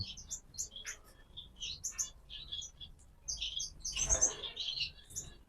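Yellow golden finches give short, bright chirps and tweets in a quick scattered series, close by and fairly soft, with a denser burst of calls near the end.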